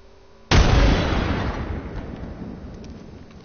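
A frag grenade detonates in a PS4 shooter, one sudden loud blast followed by a long rumbling decay over a few seconds, with no talking.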